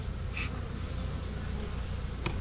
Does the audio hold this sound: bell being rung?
no